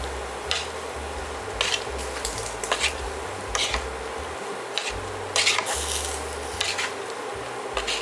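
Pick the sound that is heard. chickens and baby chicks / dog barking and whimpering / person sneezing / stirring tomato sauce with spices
stirring tomato sauce with spices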